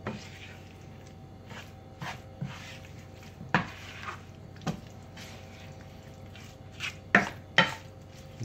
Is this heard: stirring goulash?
yes